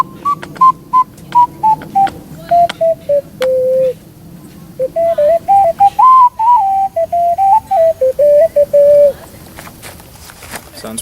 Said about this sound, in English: The next STL ocarina I have to show off is this triple chambered ocarina.